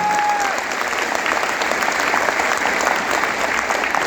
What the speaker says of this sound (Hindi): जिनके लिए मैं दिल से जोरदार वाली ताली चाहता हूं आप लोगों से